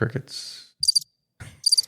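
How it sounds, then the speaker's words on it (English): Two brief bursts of high-pitched cricket chirps separated by silence, with short low sounds just before each burst. "Crickets."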